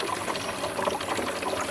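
Filtered water trickles steadily from a camping water filter pump into a jug, a continuous close splashing dribble with no talk over it.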